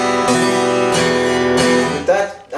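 Acoustic guitar chord strummed with a pick gripped too tightly, a few harsh, heavy strokes ringing together in a dense, continuous wash before cutting off, close up with no talking.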